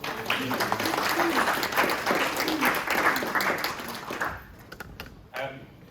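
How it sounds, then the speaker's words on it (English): A room of attendees at a business networking meeting claps steadily for a guest speaker, a close, full round of applause that tapers off abruptly near the end. "Round of applause for Amanda."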